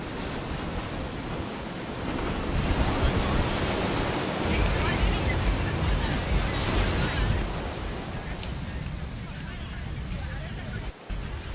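Ocean surf rolling onto Clifton Beach in Cape Town, a broad continuous wash of waves mixed with wind buffeting the microphone, loud and steady throughout with no distinct breaks.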